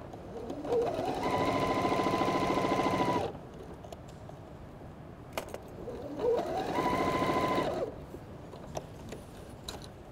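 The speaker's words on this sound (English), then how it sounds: "it's putting it under your presser foot and just sewing it together." Sewing machine stitching quilt half square triangles runs in two bursts of steady, rapid mechanical whirring and clatter lasting a few seconds each, close and clear, with a short quiet gap between.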